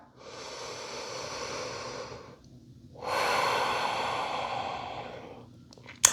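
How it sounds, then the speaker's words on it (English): Slow, deep breathing during a yoga hamstring stretch: one long inhale then a long exhale, close and steady, each breath a broad airy rush lasting a couple of seconds. "2 nice deep breaths here. Inhale. Exhale."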